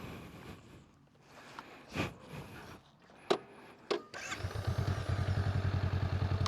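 A motorcycle during a rider training exercise: a few scattered clicks and knocks, then the engine catches and settles into a steady, close, rhythmic thumping pulse that continues to the end.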